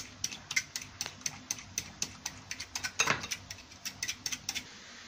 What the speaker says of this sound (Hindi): थोड़ा सा हमको बीट करना होगा ताकि हमारी शुगर जो है वो इसमें अच्छी तरह मिक्स हो जाए।